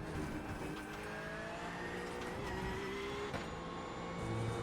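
A race car engine from the iRacing sim during a hot lap on the Virginia circuit drones steadily, with a continuous mid-pitched whine and slowly shifting tones and no speech.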